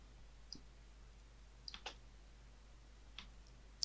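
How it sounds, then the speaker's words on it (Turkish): Computer keyboard arrow keys tapped while nudging an animation position, heard as a few faint, sparse clicks spread irregularly over a quiet room background. "Yine bunu klavyenin yön tuşlarıyla yapacağım."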